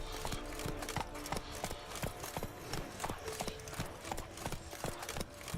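The horse Roach trotting in The Witcher 3: Wild Hunt, a steady rhythmic clip-clop of hooves, fairly close, with game ambience underneath.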